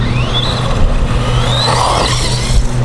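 A VRX RH1045 Octane XL 1:10 RC truck runs at full throttle with a loud, continuous high electric whine. The pitch rises and falls as it speeds up and bounces along, and no one speaks.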